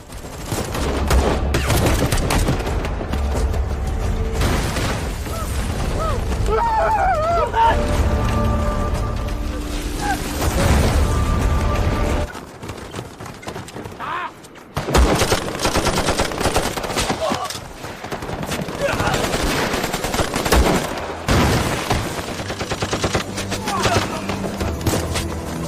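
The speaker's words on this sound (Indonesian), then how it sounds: "Maka terjadilah lagi nih adu dor-doran yang sangat sengit antara kedua belah pihak" Heavy war-film gunfight with machine guns and rifle fire: dense, loud bursts and fusillades roll almost continuously, briefly thinning midway before the shooting resumes at full intensity.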